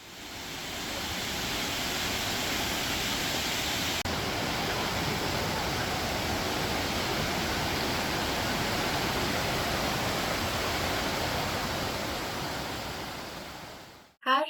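Waterfalls at Plitvice Lakes in Croatia, set among forest lakes: a steady broadband roar of falling water, loud and unbroken for about fourteen seconds before a brief bump at the end.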